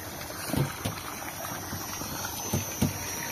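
Water trickles and drips from a solar pump pipe in Floridablanca, Pampanga, carrying sand and running dark: a steady wet wash with a few soft, splashy drops standing out, no voices.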